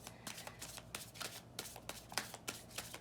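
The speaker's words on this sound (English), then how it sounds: "Last shuffle, then I take from the middle." Tarot cards being shuffled by hand, with quiet, rapid, papery riffles and soft flicks coming in repeated bursts close by.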